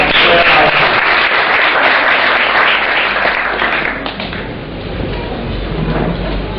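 Audience applause at a Turkish talk program, loud sustained clapping that fades after about four seconds into quieter clapping and low rumble.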